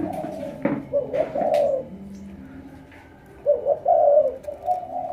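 Several domestic pigeons coo in a loft, their low burbling calls rising in two clear bouts with softer cooing between, close and steady with no talk.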